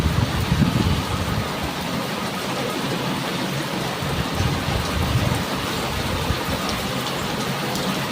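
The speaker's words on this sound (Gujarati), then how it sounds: "જો મિત્રો વરસાદ થઈ ગયો ચાલુ" Steady heavy rain pours down continuously, a dense hiss of drops on surfaces with no voices, filling the whole stretch evenly.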